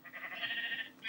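A sheep in the Minecraft video game gives a single drawn-out bleat, fairly close and moderately loud, with no talk.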